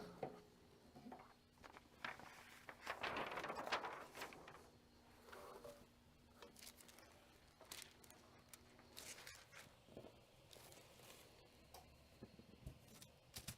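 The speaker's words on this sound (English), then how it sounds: "There's our timer on this one." A timer ticks faintly and steadily in a quiet workshop, with a brief rustling burst and a few scattered clicks and handling knocks around it, and no talking.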